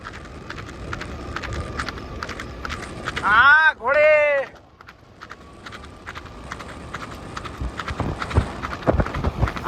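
Rhythmic hoof clip-clops ring out steadily on a hard surface, interrupted by two loud tonal cries in the middle, then continuing with background noise.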